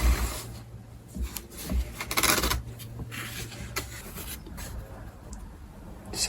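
Scoring a line with a cutting tool to mark a rosette recess on a parlour guitar top, producing short scratchy rasping strokes at close range, fairly quiet and irregular.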